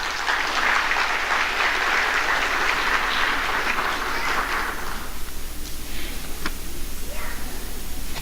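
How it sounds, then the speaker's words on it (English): A concert audience at a music school's annual evening applauds as a guest takes the stage, a dense, steady burst of clapping that fades out after about five seconds, leaving a few scattered claps. "Let's give her a round of applause, please."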